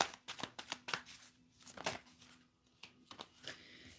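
Tarot cards shuffled by hand during a live reading, a series of crisp riffling bursts and soft slaps in an irregular rhythm, close and fairly quiet, with short pauses between bursts.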